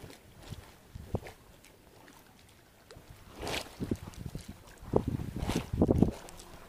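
Gusty wind blows by the water behind a house where someone is fishing before a storm, with low buffeting rumbles against the microphone that grow stronger and more frequent toward the end, along with faint splashes and movement.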